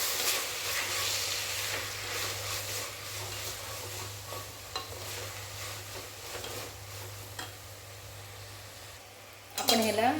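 Chinese-style pasta with soy sauce and Schezwan chutney is stirred in a pan, giving faint scraping and soft sizzling under a low hum, with a voice breaking in briefly at the end.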